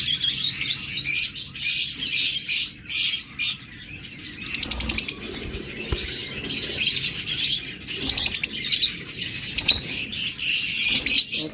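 Pigeons kept for sale in a loft fill the space with busy chirps, squeaks and occasional squawks, overlapping bursts close by and fairly loud, with brief flutters between.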